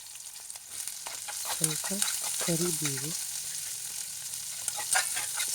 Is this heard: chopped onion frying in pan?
yes